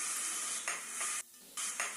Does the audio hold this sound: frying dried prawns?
yes